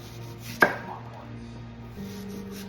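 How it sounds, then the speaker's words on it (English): A single sharp knife chop on a cutting board while an onion is sliced into rings, one close thud over a low steady background hum. "I like to chop my onion up. Just do it in rings."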